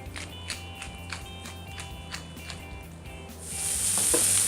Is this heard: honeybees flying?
no